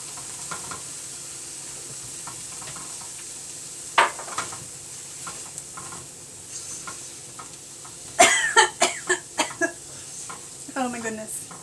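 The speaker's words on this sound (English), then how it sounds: "Okay, so now I'm going to add the cauliflower." Cauliflower goes into a frying pan for a peas, potato and cauliflower curry: a soft background sizzle with sharp utensil clacks and scrapes, a burst of stirring clatter near the end, and a brief voice.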